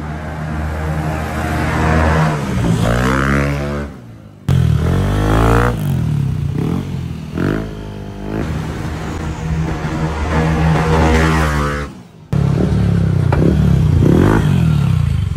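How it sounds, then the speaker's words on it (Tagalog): Stock Yamaha NMAX version 2 scooter engine revved up hard several times, rising and falling in loud close bursts with brief drops to idle between throttle blips. "Testing, NMAX version 2. NMAX version 2. Super stock."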